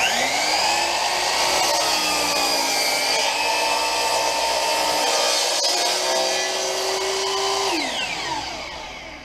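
A power tool cutting along the edge of a wooden cutting board to straighten it: a loud, steady, high whining cut held for about eight seconds, then pitch dropping as the motor winds down.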